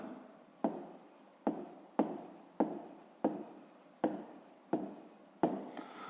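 Handwriting on paper: about eight short, scratchy pen or pencil strokes come at a steady rhythm, each starting sharply and fading, close and fairly soft with no talking.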